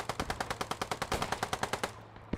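Rapid automatic gunfire rattles in a video game match, a steady burst of about twenty evenly spaced shots that stops abruptly and leaves a single last shot.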